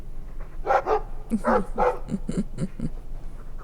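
A Mabari war dog in the video game Dragon Age 2 barks eagerly at close range, a series of several sharp barks and yips in quick succession.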